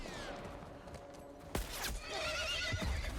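A horse whinnies sharply amid video game background sounds, with a sudden loud burst partway through and hoof-like thuds after.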